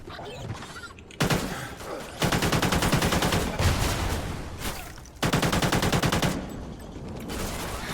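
Rapid bursts of small-weapon gunfire in Call of Duty: Ghosts Extinction on Xbox 360, loud and close, firing in long sustained volleys separated by brief pauses.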